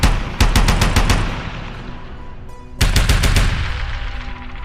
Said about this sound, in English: A burst of gunfire shatters the silence.